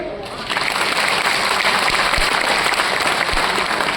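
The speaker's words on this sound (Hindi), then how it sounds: "तो बड़ा काम तो बड़ी तालियां।" A crowd claps steadily and loudly, a dense wash of applause sustained throughout without pause.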